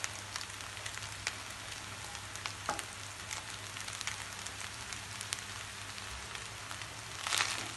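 Chopped egg being stir-fried in a pan for egg corn fried rice, with a soft continuous sizzle and scattered scraping taps of a spatula, fairly quiet and close.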